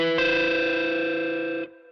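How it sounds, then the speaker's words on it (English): An electric guitar chord rings through a Tube Screamer overdrive pedal on a Kemper profiler, struck once with a bright, buzzy distorted tone, sustaining for about a second and a half before being cut off. "I just added like a tube screamer pedal on my Kemper profiler"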